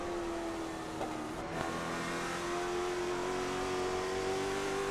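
Late model stock cars racing at Thompson Speedway, a steady loud engine drone with a sustained tonal whine, held at high revs throughout with a brief passing swell near the middle.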